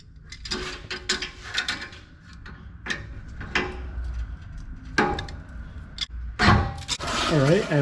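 A ratchet wrench clicks in repeated bursts of quick pawl ticks while two 12mm bolts are backed off a bracket on a Lexus GX470 during Y-pipe work, close and crisp, with someone talking over parts of it.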